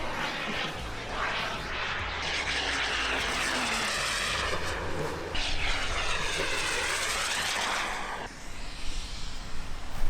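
A radio-controlled model jet airplane flies at a local club field, its engine roaring steadily with whooshing passes that swell and fade as it moves past overhead.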